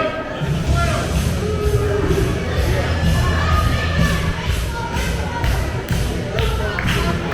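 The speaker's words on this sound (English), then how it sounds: "Crowd getting fired up with that." A loud, dense crowd cheers and shouts continuously at a live wrestling show during a kendo stick bout, with children's yells and repeated bursts of excitement over steady roar.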